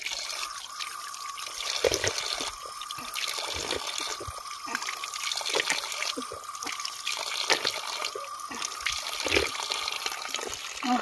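Water from a mountain spring tap pours and splashes steadily into a container, with a continuous gurgling flow and a person talking over it now and then.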